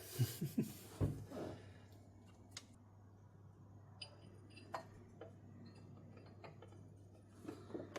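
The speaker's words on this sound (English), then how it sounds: "Bolt this new injector pump in, eh?" A ratchet clicks in short, quiet bursts while a new injector pump is bolted onto a GMC engine, with scattered metallic ticks and a faint steady hum in the background.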